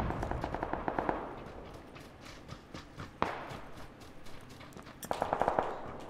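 Bursts of rapid automatic gunfire in PUBG, an assault rifle firing around the start and again near the end with scattered single shots between, moderately loud over faint background.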